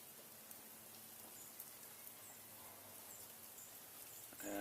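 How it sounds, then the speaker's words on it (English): Sleet and freezing rain fall during an ice storm in Stockbridge, Georgia, making a faint, steady hiss with scattered light ticks and patters. A brief louder rustle comes at the very end, and no one speaks. "we've got sleet, freezing rain falling now."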